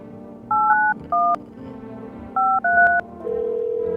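Telephone keypad dialing tones: two quick bursts of beeping DTMF key presses, each a few short tones, followed by a steady tone starting, loud and close.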